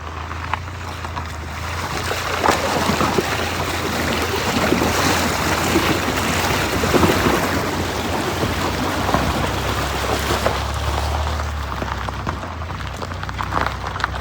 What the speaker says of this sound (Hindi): ये लो जी, पहली वाटर क्रॉसिंग आ गई है।